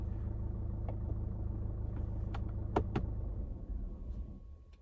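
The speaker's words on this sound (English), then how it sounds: "The car just started and I almost had a panic attack." A car engine turning over and catching unexpectedly nearby, a steady low rumble underneath with a few sharp clicks and thumps, the idle settling and fading toward the end.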